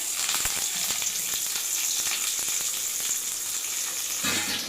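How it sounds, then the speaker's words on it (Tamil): Onion and curry leaves frying in hot oil for a prawn curry, giving a dense, continuous close sizzle with crackling pops and a brief stirring clatter near the end. No one speaks. "வெங்காயம் போடலாம், கருவேப்பிலை போட்டுக்கலாம்."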